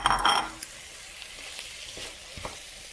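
Saltfish, pumpkin and vegetables sauté in a pot, opening with a loud burst of sizzling that quickly settles into a steady, quieter crackle with a few soft clinks and stirs.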